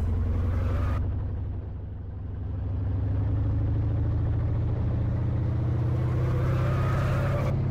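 A car engine in the BeamNG.drive video game accelerates, its loud, close drone climbing steadily in pitch with a brief dip partway through.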